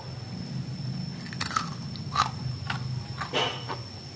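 Crunchy fried tofu chips bitten and chewed up close, several sharp brittle crunches spaced irregularly over a quiet room hum, no speech.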